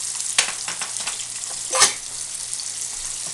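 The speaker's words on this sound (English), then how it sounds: "Be careful, we're working with hot oil" Breaded cutlets for zigeunerschnitzel sizzle loudly in hot oil, a dense crackling hiss with a few sharper pops and spatters.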